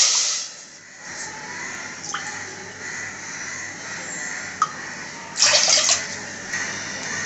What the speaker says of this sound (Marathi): मी एका पातेल्यामध्ये दोन वाट्या पाणी टाकणार आहे